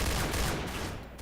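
Dense, continuous bursts of gunfire from the Brazilian online shooter PointBlank, loud and close, rattling like automatic weapons across the whole short stretch with no talk over it.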